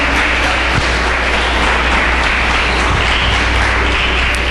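Church congregation applauding, a continuous, loud wash of clapping from many hands filling the sanctuary without pause.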